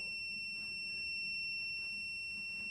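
A digital torque wrench holds a steady high-pitched electronic beep tone continuously at its 140 setting, with faint low mechanical noise underneath from a Craftsman V20 1/2-inch drive impact wrench test.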